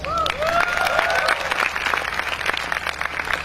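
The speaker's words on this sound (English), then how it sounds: "Give yourselves a round of applause" An audience claps for itself at a speaking event, a full burst of crowd applause with a few whoops and whistles at the start, steady and fairly loud throughout.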